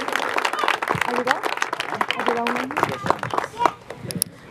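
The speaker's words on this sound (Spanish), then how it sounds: "Y ese fuerte y bonito aplauso para el mariachi juvenil primera clase." Applause rings out for a youth mariachi band at a quinceañera celebration, with scattered claps pattering steadily as someone talks loudly over them.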